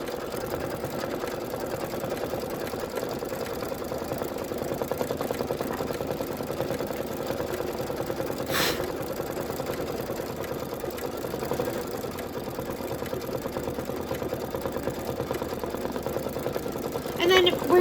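An embroidery machine stitches broom bristles in a steady, rapid mechanical chatter that runs without a break, close up and even in loudness, with a brief click partway through.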